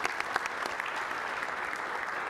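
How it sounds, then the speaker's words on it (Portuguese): Brief applause from an audience at a conference on online gaming, a steady patter of many hands clapping at moderate distance for a couple of seconds, with no one speaking over it. "Un aplauso."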